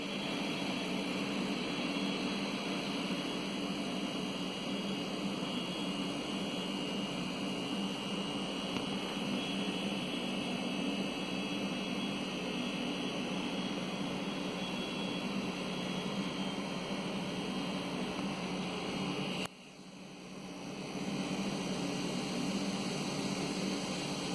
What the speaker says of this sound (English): the fan is rotating at high RPM